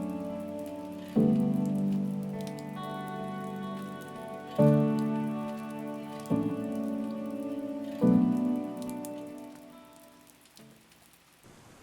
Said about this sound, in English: it's forecast rain all day, like it's just not going to stop